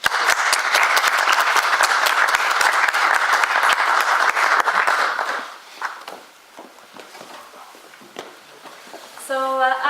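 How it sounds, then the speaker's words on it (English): A conference audience at a 3D printing industry event gives a loud round of applause that holds for about five seconds, then thins to scattered claps and shuffling, with a brief musical chime at the end. "give you a big round of applause"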